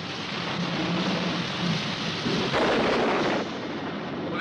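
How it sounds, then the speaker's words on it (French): Heavy rain pours steadily in a dense, loud wash, with a deep rumble of thunder swelling midway, in an ancient Babylon setting; no voices are heard. "On ne voit rien avec une pluie pareille."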